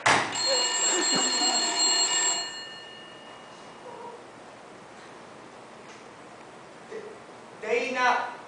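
An old-style telephone bell rings loudly for a couple of seconds, then stops, leaving quiet room tone and a few faint rustles.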